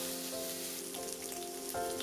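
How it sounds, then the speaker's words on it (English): Pork belly pieces pan frying, heard close as a dense, steady crackling sizzle like rain on a surface, with a faint hum underneath and no talking. "Second is pan fry them first will bring out the aroma."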